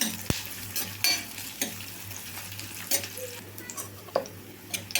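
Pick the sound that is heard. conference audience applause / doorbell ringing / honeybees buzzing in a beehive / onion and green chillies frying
onion and green chillies frying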